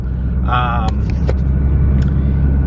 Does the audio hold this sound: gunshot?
no